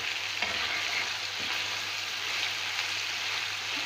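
Beef liver and onions sizzle and fry steadily in a pan while a utensil stirs them, with occasional scraping knocks over the constant loud crackle and no talk.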